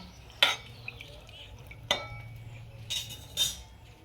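Banana flower is stirred in a pan, with four sharp clinks of a utensil against the metal spaced a second or so apart over a low, quiet background.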